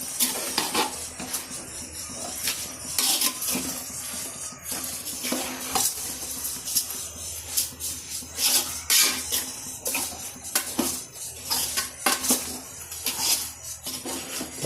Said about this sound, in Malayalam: ചോറ് മസാലയൊക്കെ നന്നായിട്ടൊന്ന് കുഴയുന്ന രീതിയിൽ വേണം നമുക്ക് സെറ്റ് ചെയ്യാനായിട്ട്.